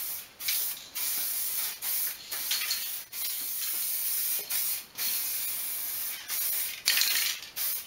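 Spray gun or aerosol dusting a coat of paint onto a custom DIY front lip for a Toyota Celica, steady close hissing bursts repeated about ten times with short gaps between passes.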